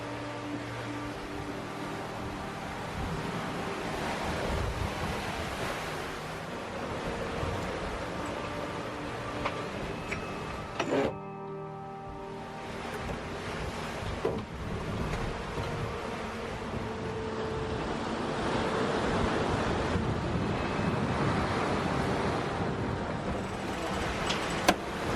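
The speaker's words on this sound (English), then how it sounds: "we got 24 knots of wind right now" Strong wind of around 24 knots rushes steadily while a sailboat under main and jib crosses the Pacific Ocean with squalls approaching, over a continuous broadband roar of wind and waves that briefly dips partway through before building again.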